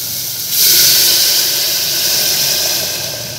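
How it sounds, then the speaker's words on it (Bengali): Water poured into a cooking pot for soup, a sudden broad hissing rush that starts abruptly after a moment of quieter sizzle and continues steadily, fairly close and loud. "এবার আমি জল দিয়ে দেবো।"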